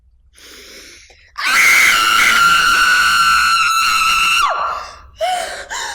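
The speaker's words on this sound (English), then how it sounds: "Let's hear that horror film scream." An actor performs a horror film scream: one loud, shrill, sustained shriek of about three seconds that bends downward as it ends, followed by a few short, quieter vocal sounds.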